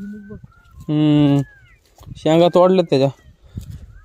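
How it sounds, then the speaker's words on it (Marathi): Peacocks call near a farm at Bhuinj village in Satara, giving loud, drawn-out nasal wails: one long cry, then a quick cluster of three. A person talks briefly in between. "मोराचा आवाज येतोय आपल्याला."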